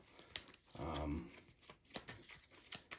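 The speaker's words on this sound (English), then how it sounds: "We'll do a little shuffle here." A deck of cards for the board game Aeon's End is shuffled once, a brief riffling burst in the middle of the clip, with soft handling clicks and taps around it at low level.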